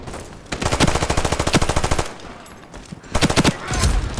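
A Thompson submachine gun in the video game Ironsight fires two rapid automatic bursts, the first long and sustained, the second shorter after a brief pause, loud and close.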